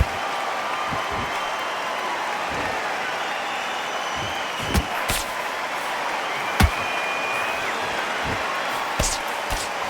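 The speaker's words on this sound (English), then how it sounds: "Really good buzz in the air tonight. This crowd waiting for something special." Boxing arena crowd in a video game bout between Salvador Sanchez and Vasyl Lomachenko: a steady, dense crowd roar fills the whole stretch, with a few sharp thuds.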